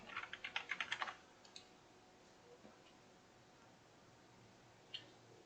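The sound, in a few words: computer keyboard keys being pressed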